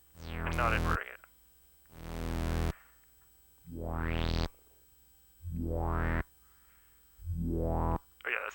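A synthesizer patch with a long attack envelope plays five separate notes. Each one swells up gradually from near silence into a bright, buzzing tone, then stops cleanly, with short gaps between them.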